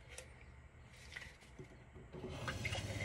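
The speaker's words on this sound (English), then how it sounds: "fill it up with as much water as I need for my coffee," Water from a van's pump-fed tap runs into an electric kettle, a soft, steady trickle and splash that grows fuller toward the end, faint and close with no voices.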